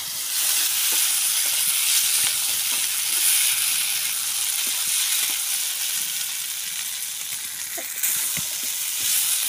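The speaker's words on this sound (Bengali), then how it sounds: "আমাদের ছোলা গরম করা হয়ে গেল।" Chickpeas heating in a pan over a clay stove, a steady broadband sizzle running throughout with soft scraping stirs now and then, close and alone.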